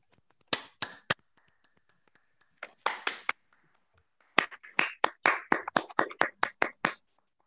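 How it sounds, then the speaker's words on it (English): A few distinct, sharp hand claps from a small audience at an online youth debate final round, arriving in short separate bursts with quiet gaps between them, then a quicker run of individual claps near the microphone. "give a very loud round of applause to Gavel Yadav Hariharan for being the moderator for the first round"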